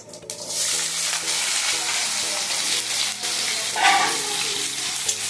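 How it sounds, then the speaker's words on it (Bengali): Potatoes with cumin seeds fry in hot oil for a Bengali fish curry with ridge gourd, giving a steady, close sizzle over a low background hum and stirring scrapes, with a brief louder crackle near the end. "প্রথমে জিরে ফোড়ন দিয়ে দেবো ঝিঙের জন্য একটু আলাদা করে আলু কেটে নিয়েছি আগে আলুটা ভেজে নেবো ভালোভাবে"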